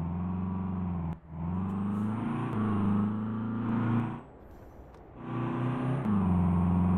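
A Mercedes Sprinter van accelerates hard, its engine droning loud and steady and rising through the gears, with a brief drop in power between shifts, heard from inside the cabin.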